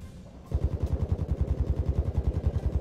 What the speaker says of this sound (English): What the fuck is shooting?